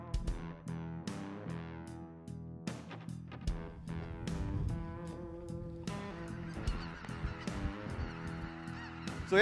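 Snow geese honking during a hunt in Saskatchewan, a dense, continuous chorus of loud, nasal calls from many birds overhead, with no talk.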